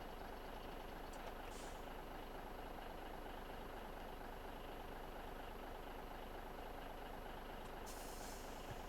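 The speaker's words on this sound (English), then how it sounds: "You got yourself a big old semi-truck." A big semi-truck with air brakes rumbles steadily at a low, continuous level, with short hissing bursts of air release near the start and end.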